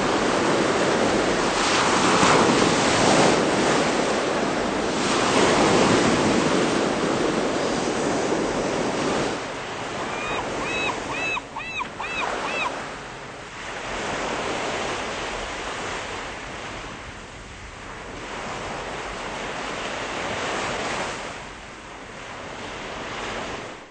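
Ocean waves roll in and break in repeated loud surges that fall back between swells, with wind buffeting the microphone.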